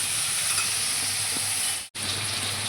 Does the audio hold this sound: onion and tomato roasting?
yes